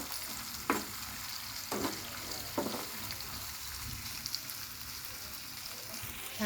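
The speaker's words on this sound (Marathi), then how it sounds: "तर आपण कांदा असा चांगला भाजून घ्यायचा, असा चांगला लाल होईपर्यंत छान असा खरपूस भाजायचा" Onion fries in hot oil in a pan with a steady, close sizzle throughout, broken by a few scraping stirs.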